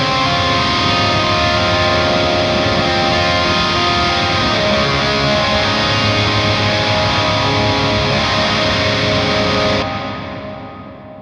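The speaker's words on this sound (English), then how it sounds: "if we go back to the dirty channel, of course, the reverb is going to come after the distortion" A loud, sustained distorted electric guitar chord rings out with heavy reverb applied after the distortion, through a Two Notes Reload II, then cuts off and its tail fades away.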